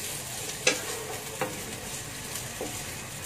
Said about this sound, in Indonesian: Kita tumis buat seketika, we saute for a little bit.